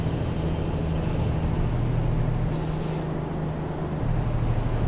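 Peterbilt 389 truck engine in American Truck Simulator, a steady low diesel drone with constant road rumble and a faint high whine, cruising on the highway without pause.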